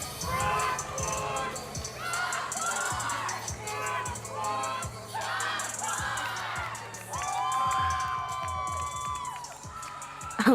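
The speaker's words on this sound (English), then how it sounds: "A little back and forth cheering action between the people in the stands and the gymnasts on the floor for Brockport" Spectators in the stands at a women's NCAA gymnastics meet between West Chester, Cortland and Brockport, cheering and calling back and forth in lively bursts, with balls or feet thudding on the floor and a shrill whistle near the end.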